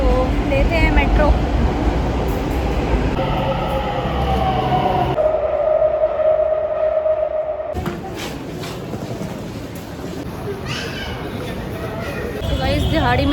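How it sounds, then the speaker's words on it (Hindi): Metro train ride with a steady rumbling rolling drone, announcement-like tones and voices heard over it, the noise dipping quieter midway as the car slows, then swelling back to a loud rumble. "तो लेते हैं मेट्रो।"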